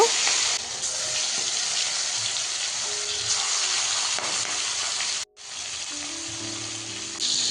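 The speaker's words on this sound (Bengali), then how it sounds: "এখন মাছগুলো আমি ভেজে নেব তো কড়াইতে তেল দিয়ে দিলাম" Prawns and singi catfish crackle and sizzle loudly in hot oil in a kadai, a continuous bright hiss that dips briefly near the end before resuming.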